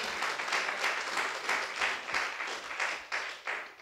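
Church congregation in Itanagar, Arunachal Pradesh clapping loudly in a quick, regular rhythm, with a few voices mixed faintly into the claps.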